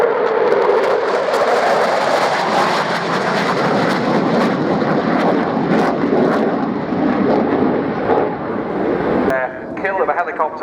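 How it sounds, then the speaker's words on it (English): F-15C fighter jets of the Grim Reapers roar past at an air show, a loud sustained jet rumble that sweeps and fades, with a commentator's voice over it and a brief shift near the end. "Here come the F-15Cs of the Grim Reapers once more."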